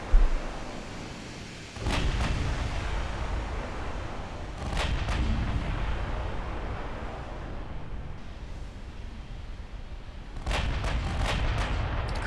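Heavy battleship guns of 19 and 20 inches booming in a naval video game, several loud deep blasts with long rumbling tails, one near the start, more around five seconds and a cluster near the end.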